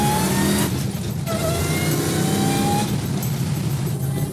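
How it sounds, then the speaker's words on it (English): A supercharged Dodge Challenger engine revs hard and accelerates through the gears with a loud, steady roar and a rising supercharger whine, close by and with no voices. "there's the supercharger kicking in"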